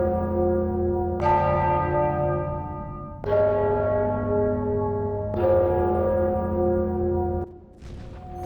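Large bells toll in the fantasy game Enderal, three heavy resonant strikes spaced about two seconds apart, each ringing out with a long humming decay, loud and alone without speech.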